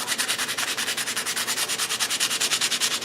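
Steady back-and-forth sanding of an Emerson 628 radio cabinet with 220 grit sandpaper, a close, even run of about two strokes per second with no talk.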